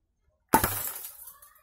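A beer bottle struck by a glass BB fired from an MP-900 toy gun shatters in one sudden crash, followed by a brief tinkling of falling shards, heard alone after silence.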